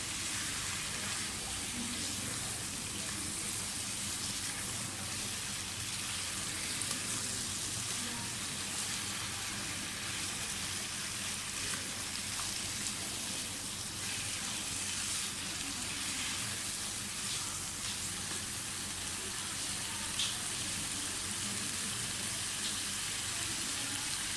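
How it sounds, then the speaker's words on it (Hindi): Potatoes frying in a covered pan for aloo bhujia, a steady, even sizzling hiss that continues without a break throughout, fairly soft and with no talking over it. "ये हम फ्राई करेंगे और तकरीबन 10 मिनट के लिए मैं इसको ढक के रख दूँगी।"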